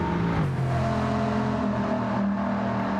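A Bugatti Veyron accelerates through the Porsche curves, its engine note rising steadily in a strong, continuous drone with a brief dip as it shifts, loud and close throughout.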